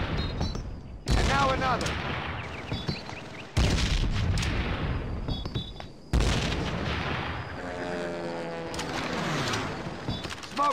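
Frag grenade explosions in the Call of Duty: World at War basic training level, set in North Carolina, June 1942: several loud, heavy booms with gunfire crackle in between, and a voice speaking briefly.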